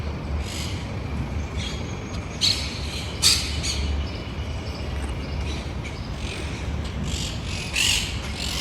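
Birds squawking and chirping at dawn in Montevideo, Uruguay, with several brief calls rising over a steady low outdoor rumble of distant traffic.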